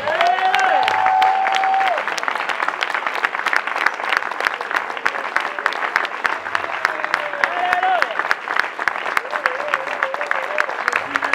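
A congregation claps and cheers to acclaim the Lord at a Prière des Nations prayer gathering in the Brazzaville congress hall, with sustained, dense applause and crowd noise throughout and a loud voice calling out over it.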